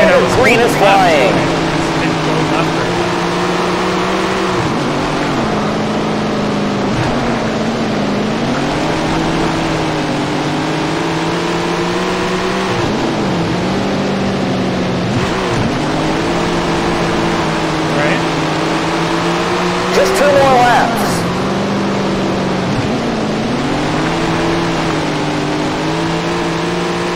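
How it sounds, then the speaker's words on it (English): Street stock race car engines from the game Tony Stewart's All American Racing drone and rise and fall together as the field revs at the start, loud and continuous beneath ongoing talk. "Listen to those engines as we get ready to go."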